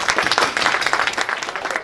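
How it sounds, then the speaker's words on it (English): An audience at a Chuka University joint faculties gathering breaks into loud, close applause, a brisk, continuous flurry of hand claps lasting the whole moment. "Can we give them a clap?"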